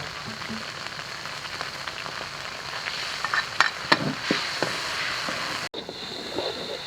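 Chopped chili, bean paste, pickled bamboo shoots, garlic and pickled chili sizzle in hot oil while being stir-fried for a traditional yu xiang shredded pork. A steady close sizzle runs throughout, with scattered spatula scrapes and clicks around the middle.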